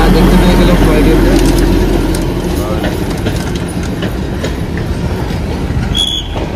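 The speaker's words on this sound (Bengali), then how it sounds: "আমরা দেখতে পেয়ে গেলাম টয় ট্রেনটা।" The Darjeeling toy train rumbles past close by, a loud steady roar of wheels and carriages with rhythmic clatter and occasional squeals, easing slightly in level over several seconds.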